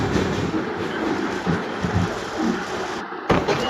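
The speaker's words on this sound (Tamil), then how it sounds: "டடக்கு டடக்கு டடக்கு டடக்குன்னு ட்ரெயின் அழகாக போயிட்டு இருக்கு." A passenger train on the Tambaram to Rameswaram line runs steadily on its rails, heard close from on board as a loud, continuous rumble with rhythmic clickety-clack wheel beats and one short break near the end.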